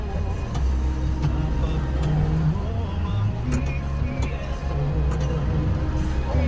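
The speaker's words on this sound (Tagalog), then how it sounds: "Traffic din sa tollgate ng Sampaloc." Road traffic at the Sampaloc tollgate hums steadily as cars, buses and trucks idle and crawl past, a continuous low engine drone with occasional clicks and clatters, with talk faintly mixed in.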